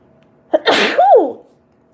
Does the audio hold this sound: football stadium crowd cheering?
no